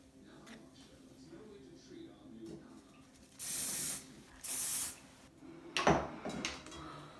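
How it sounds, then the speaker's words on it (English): Two short, loud hissing bursts of hairspray, each lasting about a second, with quiet talk and handling noises around them. "Spray it with a stronger hairspray"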